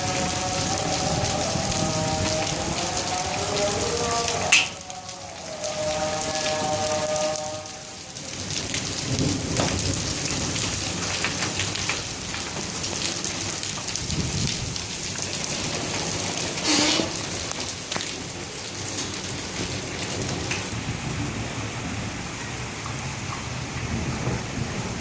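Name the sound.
heavy rain falling in Rawalpindi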